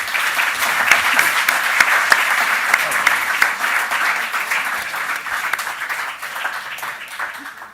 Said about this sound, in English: Round of applause to all the contestants.